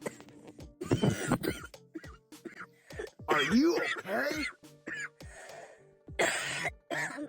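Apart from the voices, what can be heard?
person coughing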